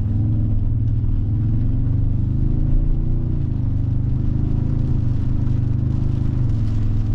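A 2023 Toyota Tundra Capstone CrewMax i-Force Max truck drives through heavy rain, its low steady road rumble and engine hum filling the cabin without a break.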